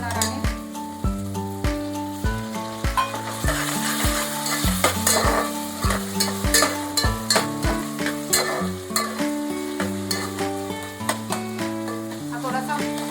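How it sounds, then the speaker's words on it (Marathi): Chopped tomato sizzles in generous oil in a pan for Malwani-style usal, a spoon stirring and scraping it steadily, with music playing prominently over the frying throughout. "हा थोडासा टोमॅटो मऊ पडेपर्यंत आपण तो हलवत राहायचा आहे"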